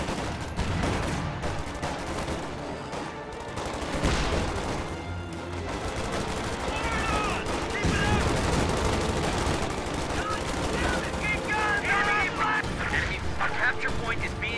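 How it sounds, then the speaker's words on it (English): Infantry support gun and mortar firing in a strategy war game, dense repeated booms and gunfire crackle in a busy battle soundscape, with a voice talking over it throughout. "Infantry support gun has been fielded and is firing."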